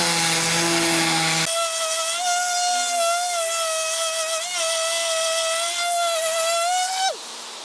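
A Makita 18V cordless DBO380 sheet sander runs steadily at close range, its loud motor whine holding a constant pitch for about six seconds before cutting off abruptly. A different, briefer machine tone comes just before it.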